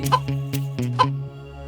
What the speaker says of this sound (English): the hen laid a golden egg